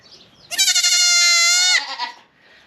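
A dairy goat gives a single loud, drawn-out bleat of about a second, strong and near, with quiet surroundings before and after.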